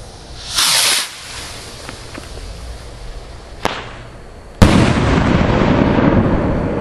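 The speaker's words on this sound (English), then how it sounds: "Alright, rocket salute" A rocket salute firework whooshes up with a hissing launch, a faint crackle follows, then a sharp loud bang bursts overhead and echoes out into the open air.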